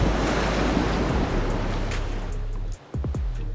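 Strong wind and breaking waves at the shore of Lake Towada, a loud continuous rush of surf with heavy wind buffeting the microphone, easing slightly near the end with a brief dropout.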